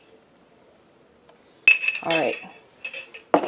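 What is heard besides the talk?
long iced teaspoon clinking in a glass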